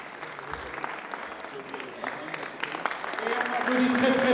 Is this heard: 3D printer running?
no